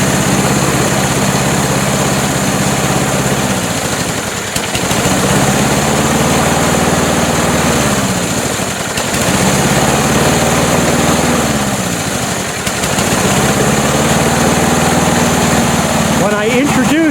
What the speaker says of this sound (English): When I introduce too much fuel, the mixture is way too rich